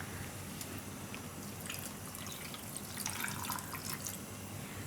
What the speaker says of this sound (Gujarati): એમાં થોડુંક પાણી નાખીને એને આપણે પીસી લેવું